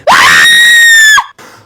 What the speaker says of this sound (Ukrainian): Чого ти кричиш?